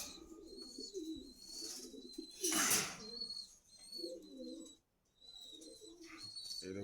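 Racing pigeon squabs cooing nearby, low soft repeated coos in short bursts, with higher chirps and a brief flutter of activity in the middle; no talking.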